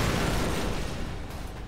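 A barrel blows up in the War of the Worlds: USA vs Russia video game, a dense, sustained blast of broadband roar that fills the moment loudly and stays steady before easing slightly.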